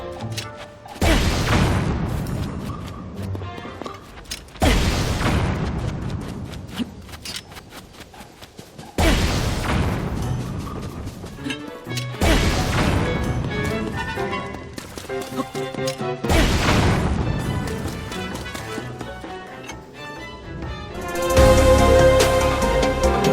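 In Tears of the Kingdom, a Throwing Spear fused with a Cannon fires repeated heavy booming blasts, about six loud explosions spaced a few seconds apart, each followed by rumbling debris and clatter.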